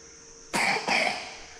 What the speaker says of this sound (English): Oh, this boy is coughing.